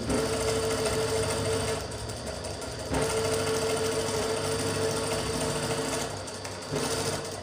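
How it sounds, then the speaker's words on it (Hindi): Sewing machine stitches a half-inch seam in fabric with a close, steady mechanical whir that briefly slows and eases off twice before running on. "हमने आपके सामने आधी इंच की सिलाई लगाई है।"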